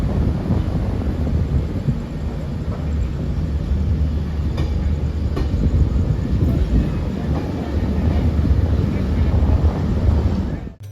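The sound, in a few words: Garib Rath Express train departing station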